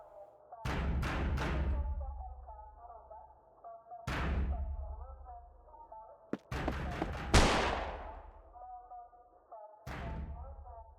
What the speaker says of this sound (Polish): To brzmiało jak wystrzał z broni.